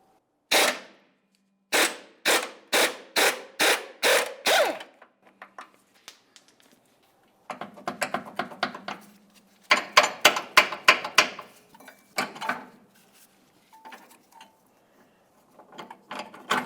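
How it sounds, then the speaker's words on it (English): A 24mm wrench works the nut off a bolt on the rear upper control arm of a 1998-2002 Lincoln Navigator, with repeated bursts of sharp ratcheting clicks in quick rhythmic groups separated by short pauses, close and clear. "We'll use a 21mm to hold the head and a 24mm to remove the nut."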